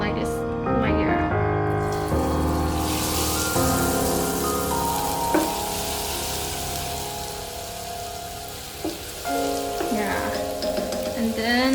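Battered tempura frying in a pan of oil, a constant crackling sizzle running throughout with clinks and tonal kitchen clatter layered over it, close by.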